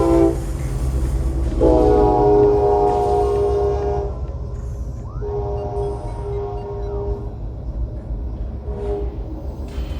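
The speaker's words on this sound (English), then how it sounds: "Incoming train." An incoming train in Metroid Prime sounds a loud, sustained horn chord, then two shorter blasts follow over a low rumbling rail drone, with a faint whooshing sweep between them.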